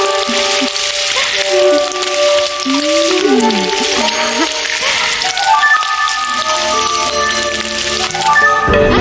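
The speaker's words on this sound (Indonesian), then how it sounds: "Biar saya aja yang goreng." Food frying in a pan gives a steady, dense sizzle that runs through the whole stretch, with tonal background music layered over it.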